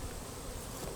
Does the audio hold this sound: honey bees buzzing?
yes